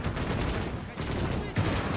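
Pak 40 anti-tank gun fire in the World War II game Call to Arms: Gates, amid a dense, continuous battle din of gunfire and rumble, with a sharper thump near the end.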